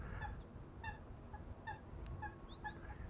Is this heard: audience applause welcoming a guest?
no